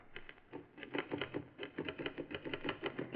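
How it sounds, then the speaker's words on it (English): A typewriter clacks at a desk in a large room, a quick, uneven run of light keystrokes, fairly close but soft and muffled, with no voices. "is seated at a desk, typing"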